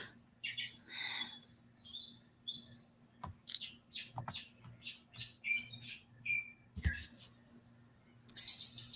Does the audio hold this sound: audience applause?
no